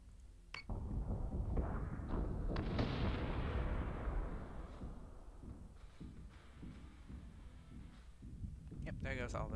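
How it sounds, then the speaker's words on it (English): Torpedoes firing and exploding in the Battlestar Galactica: Deadlock space game, a sharp launch crack followed by a rolling series of booming blasts that rumble on and slowly fade, with a few further pops near the end. "There goes all those torpedoes."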